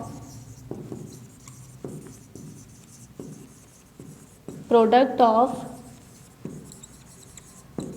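A pen writes an answer by hand on paper: soft, close scratchy strokes come in short repeated bursts, with a teacher talking briefly over them midway.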